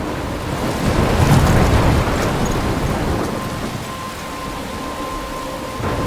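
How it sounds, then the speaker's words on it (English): Heavy rain and a thunderstorm near a lighthouse in Life Is Strange, a loud steady wash of rainfall with a low rolling rumble of thunder swelling early and then easing off. "I'm trapped in a storm?"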